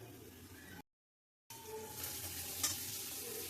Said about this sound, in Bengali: একটা পাঁপড় ভাজতে হালকা ফুলকা যুদ্ধ করতে হলো। এই চাপছি তো ফেটে যাচ্ছে।